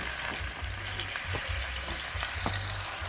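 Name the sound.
liempo (pork belly) frying in a Tefal pan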